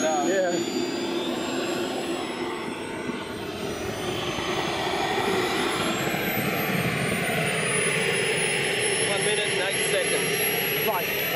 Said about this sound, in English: taxiing out for the 100th flight of the MB-339